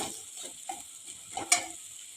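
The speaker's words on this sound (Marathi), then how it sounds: "आता घालूया एक चमचा शेंगदाण्याचं कूड कूड घालून एखाद मिनिटभर चांगली परतून घेऊया" Red pumpkin curry stir-fried with a spoonful of peanut powder, giving a soft, steady sizzle with scattered stirring scrapes and one sharp utensil clink near the end.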